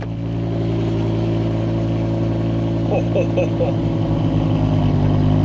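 A BMW M6 V10 engine runs steadily after a cold start, a loud, even drone that holds throughout with a slight lift in level toward the end.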